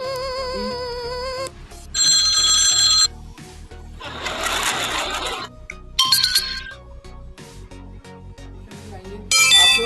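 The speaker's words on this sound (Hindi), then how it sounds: "जैसे कि फोन की रिंग" A series of different phone ringtones play one after another, electronic trills and chiming tones starting and stopping in turn, loud and close.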